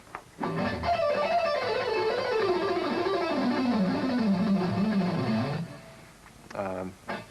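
An electric rock guitar picks a descending scale starting on a downstroke, a fast continuous run of notes gliding steadily lower, with a brief pause and a few more notes at the end.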